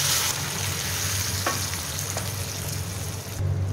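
Chopped onions sizzle steadily in hot oil with whole spices in a pan for a restaurant-style paneer kali mirch, a constant close frying hiss broken by a couple of soft stirring clicks.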